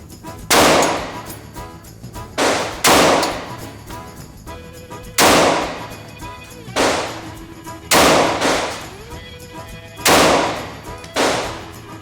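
Shots from a SCCY CPX-2 pistol fitted with an aftermarket guide rod and spring ring out at an outdoor range, about nine sharp, loud reports in an uneven rhythm, each with a short echoing tail.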